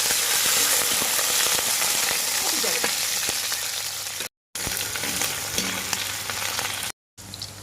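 Onions, ginger, green chilies, garlic and curry leaves sizzle steadily in hot oil in a pan, a dense continuous crackle with occasional stirring, briefly cut by two short gaps of silence.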